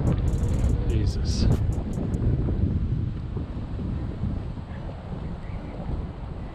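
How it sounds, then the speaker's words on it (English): Strong crosswind buffets the microphone at a high-speed run of an Arrma Limitless GT 8s RC car, a loud continuous low roar that stays heavy throughout, with brief high whine bursts at the start. "That crosswind is brutal."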